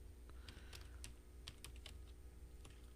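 Typing on a computer keyboard while entering budget headings into a spreadsheet: quick irregular clicks and key taps, close and fairly quiet, with no voices.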